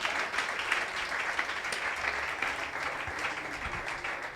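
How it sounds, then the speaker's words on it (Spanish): A church congregation applauding during a sermon, steady, fairly faint clapping from a crowd that continues evenly throughout without talk. "Dale un aplauso al Señor"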